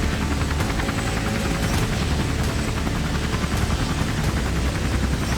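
A cartoon helicopter sets down on a road, its rotor making a loud, steady, dense roar with rapid chopping that holds throughout.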